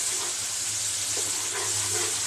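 Spices with chili powder fry in oil for a bean curry, giving a loud, continuous, close hiss of sizzling that never lets up.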